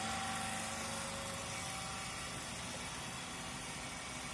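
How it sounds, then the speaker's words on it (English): A 3-phase induction motor running steadily at 1494 rpm gives off a constant low hum with a faint mechanical whine, even and unbroken, quiet and heard alone. "the motor is rotating in anti-clockwise direction and motor speed is 1494 rpm"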